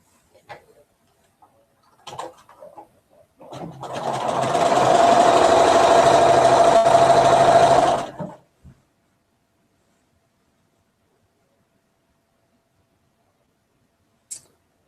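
A sewing machine stitches quilt patches together for a mystery quilt project, running in one steady, loud burst of about four seconds with a rapid mechanical whir, framed by faint handling clicks before and after and otherwise quiet.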